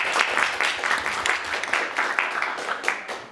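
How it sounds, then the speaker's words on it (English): An audience at a university humanities Three Minute Thesis competition applauds all the participants, a dense, steady wash of clapping that holds at an even level for the whole stretch, with no talk over it. "Let's give another round of applause for everybody who participated"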